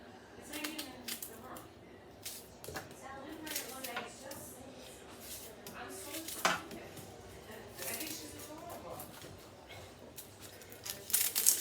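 Knife chopping red onions on a cutting board while preparing roasted pheasant, a quick run of irregular crisp taps and thumps, fairly close, with a voice talking quietly underneath.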